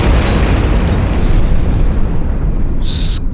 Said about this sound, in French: cette explosion, avec les trois sons combinés, elle donne ça.